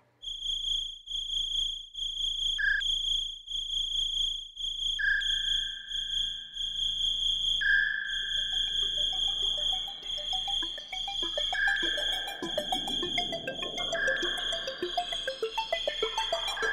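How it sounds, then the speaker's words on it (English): A synthesized cricket chirp pulses in short, regular bursts of a high tone, then turns into a denser, shimmering electronic texture with reverb, playing alone at a moderate level. "synthesized cricket sound"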